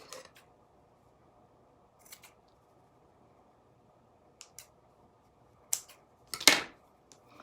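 Scissors snip through pieces of lace during a bracelet craft: a few sparse, quiet cuts spread apart, then a sharper cluster of close snips toward the end.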